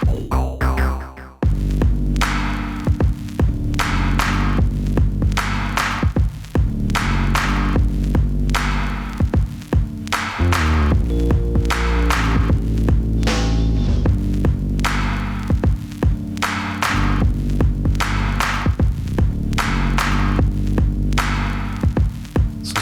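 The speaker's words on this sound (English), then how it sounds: "let's add a bass. We'll just jump in here with the Iona. It's like an SH-101 emulator." A Roland SH-101 emulator synth plugin plays a bass line inside a music workstation, a loud repeating pattern of punchy, rhythmic low notes that runs steadily for the whole stretch with no talking.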